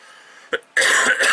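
A single short cough, close and fairly loud, with a brief pause before a denser burst of coughing or throat noise.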